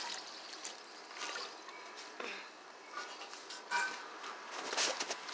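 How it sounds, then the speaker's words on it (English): Water trickling and pouring out of an old 1965 toilet as it is drained, a soft uneven dribble with splashy bursts, close and fairly quiet. "I'm just gonna drain all that water out and carry it to the front porch right now."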